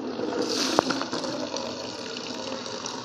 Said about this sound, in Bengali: রাস্তার কলে দেখো পেছনে জল পড়ছে